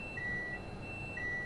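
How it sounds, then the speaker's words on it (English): Train Sim World 5 in-game cab warning on a Pendolino train: two short, clean electronic beeps about a second apart, faint over a low background hum. "it's beeping at me"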